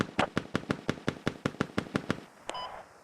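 Sporadic gunfire during a military drill: about a dozen sharp shots in a fast, even rhythm, loud and close, followed by a short electronic beep as the firing stops.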